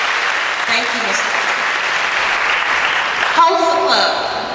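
Applause from an audience at a school honors day, a steady wash of clapping that continues evenly with faint voices mixed in, then tapers near the end.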